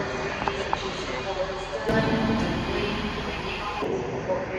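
A train standing at a recently opened station, a steady mechanical rumble and hum close by with a brief high tone partway through.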